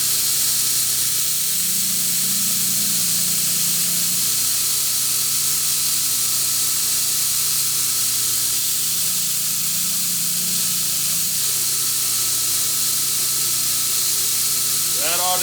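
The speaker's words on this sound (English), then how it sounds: "At the grinder, kind of a worn 80 grit belt" A belt grinder running a worn, cleaned 80-grit belt grinds metal at about a 45-degree angle, making a loud, steady, rushing hiss that holds unbroken for the whole stretch.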